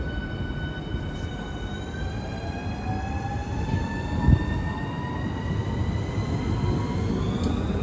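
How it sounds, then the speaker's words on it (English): Southeastern Class 395 unit 395009 pulls out of Ashford International on a service to Ramsgate, its electric traction whine climbing steadily over a rolling rumble, with one brief thump partway through. "About ready to depart now will be the slightly delayed 1046 Southeastern service to Ramsgate."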